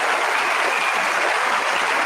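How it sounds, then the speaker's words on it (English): Audience applause honouring Coast Guard service members, a steady, even patter of many hands clapping close by with no voices on top. "We can applaud every one of them."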